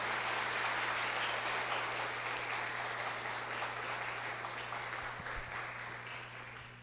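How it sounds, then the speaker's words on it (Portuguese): A church congregation gives a sustained round of applause during a sermon, a dense, even wash of many hands clapping that holds steady for several seconds, with a faint low hum beneath it. "Pode aplaudir bem forte a palavra,"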